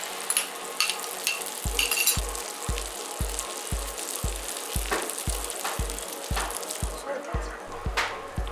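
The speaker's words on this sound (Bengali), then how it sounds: "এতে ফেটানো ডিমটা দিয়ে দিলাম।" Beaten egg fries in mustard oil in a pan over a medium flame. A close, crackling sizzle plays under a regular series of soft, low thumps.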